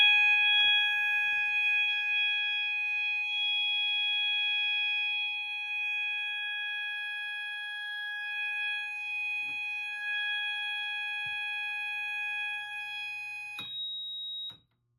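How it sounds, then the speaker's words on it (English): A Notifier SGL-404 fire alarm system sounds a continuous, uncoded full alarm. The steady electronic tone holds unbroken for about fourteen seconds, then shifts pitch briefly and cuts off. "Now let's demonstrate the system in full alarm."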